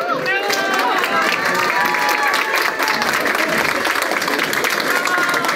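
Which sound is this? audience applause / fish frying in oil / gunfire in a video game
audience applause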